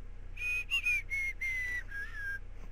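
A person whistles a short, wavering tune of several sustained notes with brief gaps, fairly quiet over a steady low background hum, no talking.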